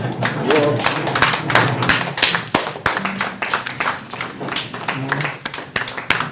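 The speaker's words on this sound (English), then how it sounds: "So remember, you clap until as he stands up." An audience claps as the guest of honour, a government minister and keynote speaker, stands at a regional industrialisation week event, giving uneven close claps and thuds with voices talking over them.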